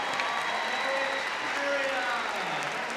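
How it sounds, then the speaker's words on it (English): Crowd applause at a dog show, a broad steady wash of clapping over the full three seconds, with a commentator talking over it. "Lovely response from the crowd"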